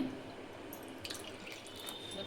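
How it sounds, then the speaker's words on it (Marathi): Water is poured from a small bowl onto ragi flour with a faint, soft trickle and a few light splashes in a quiet room. "आता याच वाटीने आपल्याला 2 वाट्या पाणी घालायचं आहे"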